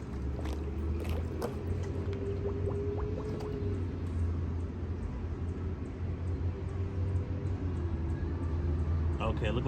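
Coolant streams steadily from the bleeder valve of a car's engine cooling system as trapped air is bled out, a low continuous trickle heard beneath someone talking.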